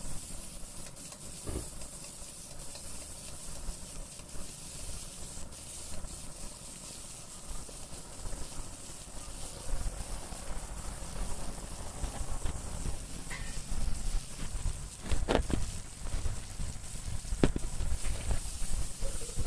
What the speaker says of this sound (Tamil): வெங்காயத்தை போட்டு லேசாக கிண்டிக்கிடுவோம் ஆயிலில். அதுக்கப்புறம் எடுத்து வச்ச குடமிளகாயை போடணும்.